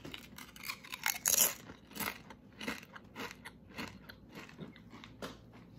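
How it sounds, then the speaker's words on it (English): Loud, close crunching and chewing of Korean Honey Chili flavored Doritos chips, with a burst of sharp crackles early on followed by steady rhythmic munching. "let me get you a good fucking crunch"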